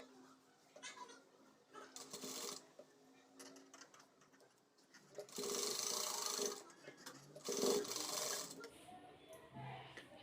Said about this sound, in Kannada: ಈಗ ಇದನ್ನು ಈ ರೀತಿ ಫೋಲ್ಡ್ ಮಾಡಿಕೊಂಡು ಸ್ಟಿಚ್ ಮಾಡಬೇಕು